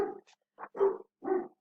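Dogs barking indoors, a few short, moderately close barks and yips in quick succession, alone without talk.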